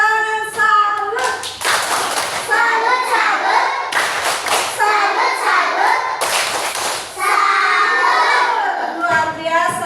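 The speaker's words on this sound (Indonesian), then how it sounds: "Sekali lagi tepuk tangan salut." A class of children in an Indonesian school claps in rhythmic bursts, sharp patterned clapping repeated several times alongside loud group chanting and shouts nearby.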